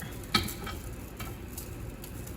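Two tablespoons of butter heating in a pan over medium-high heat with oil, giving a steady sizzle, a sharp clink near the start and light scraping after.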